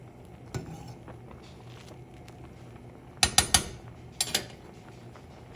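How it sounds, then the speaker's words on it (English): A pasta spoon scrapes across the bottom of a pot of shrimp linguine in two short bursts, each a quick run of three or so metallic scrapes and clicks, close and fairly loud over a quiet background. "take your pasta spoon and scrape the bottom of the pot to get those bits that are sticking to the bottom"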